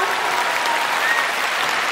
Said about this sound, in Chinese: 俾啲掌声鼓励下先啦。